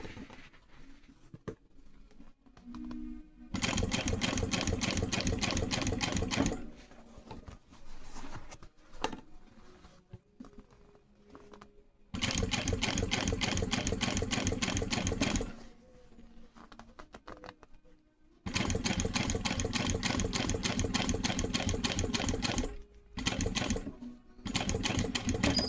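A sewing machine stitches a motorcycle seat cover in three sustained bursts of rapid, even clatter, separated by quieter stretches of small handling noises as the fabric is shifted, all close by and free of talk.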